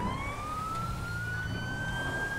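An emergency vehicle siren in a police video game wails with a single rising tone, steady and fairly faint over a low engine hum.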